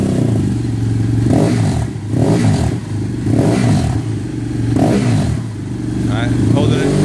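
A 2013 BMW 800GS motorcycle with its silencer removed runs loud and close, its steady rumbling idle rising in several short revs.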